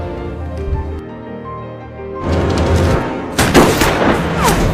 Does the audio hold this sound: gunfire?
yes